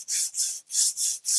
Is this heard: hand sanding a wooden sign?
yes